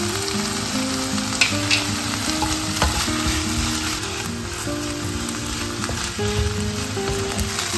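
Ginger and garlic paste hit hot oil with green chillies in a pan for chilli paneer, crackling in a loud, dense, continuous sizzle with intermittent stirring scrapes, close up and free of speech.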